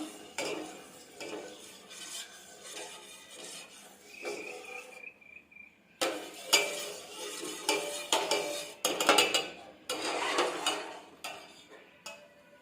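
Watermelon juice and jelly mixture stirred in a bowl, irregular scraping and clinking of a utensil with a soft rhythmic swish, quiet and close, no talking.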